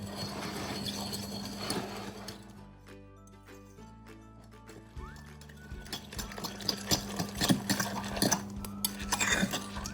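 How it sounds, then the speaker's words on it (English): A baked oats mixture being whisked in a bowl, giving quick rhythmic clinks and scraping that carry through the whole stretch, with a steady low hum underneath and no talking. "I'm going to whisk this up."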